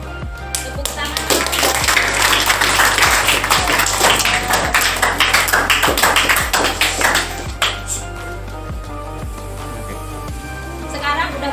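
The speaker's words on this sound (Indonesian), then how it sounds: "Tepuk tangan." Hands clapping among a group at an Islamic boarding school gathering in Depok, a dense patter of claps over a steady low hum, with children's voices mixed in.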